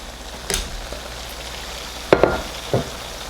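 Spices fry with crushed garlic and ginger in a pan for chicken karahi, a soft steady sizzle beneath a few sharp spoon scrapes and clinks, close and without talk.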